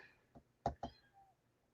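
A pet cat meows indoors, giving a soft chirp followed by two louder, quick meows close by, then a faint trailing call.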